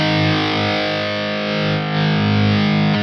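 Heavily distorted electric guitar played through a Kourbis Cockney Riot, a modded JCM800-style preamp pedal, with master volume at 5, resonance 7 and presence 8: a thick, sustained, saturated chord wash, loud and steady, with no talking.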